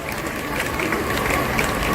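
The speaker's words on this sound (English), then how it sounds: "Give yourselves a big round of applause, everyone." An audience at a bird park show in Singapore applauds in a dense, steady wash of many hands clapping together, fairly distant and even throughout, with no clear talk over it.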